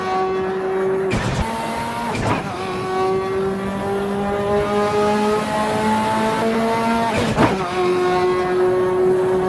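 A turbocharged race car in the Assetto Corsa EVO video game holds a sustained engine whine with a rising pitch, broken by three sharp gearshift or turbo bursts, loud and steady throughout.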